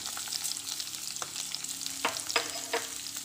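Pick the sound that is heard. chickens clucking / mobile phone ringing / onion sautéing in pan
onion sautéing in pan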